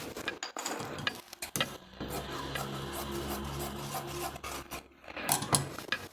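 Scissors cutting through blouse fabric give a close, dry rasping snip that runs steadily for a few seconds, with brief sharp clicks and rustles before and after.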